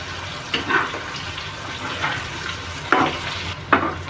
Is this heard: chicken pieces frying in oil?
yes